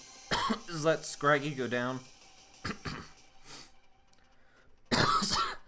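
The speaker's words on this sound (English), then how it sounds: "I told you the cough is bad." Harsh coughs and throat clearing come in bursts between short stretches of speech during a Pokémon league match commentary, with a strong cough fit at the end.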